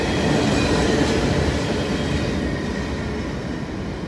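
A freight train boxcar rolls past close by on the old B&O line with a steady, loud rumble and rhythmic wheel clatter on the rails, holding level throughout with no voices.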